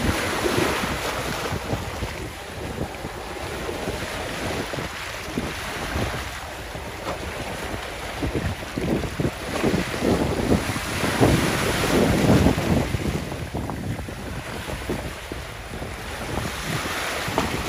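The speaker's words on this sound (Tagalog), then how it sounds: "At sa kasagsagan ng ng malakas na alon, parang babagsak na naman ang ulan." Strong waves roll and crash along Manila Bay under heavy wind, a continuous loud roar of surf with gusty microphone buffeting and surging swells, no voices over it.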